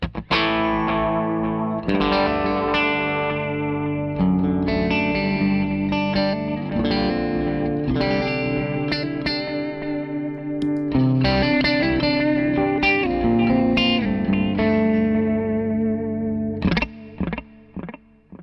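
An electric guitar plays a continuous melodic line drenched in a warm, repeating analog-style delay pedal and chorus, echoes trailing behind each note, with no voices.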